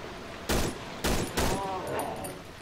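Gunfire in the horror video game Cry of Fear: three sharp, loud shots spaced about half a second apart, with a fainter fourth pop and lingering room noise between them.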